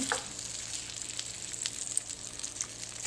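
Blueberries cooking in rice syrup in a pan give off a steady close sizzle and bubbling crackle throughout, with a few brief clicks of a utensil against the pan.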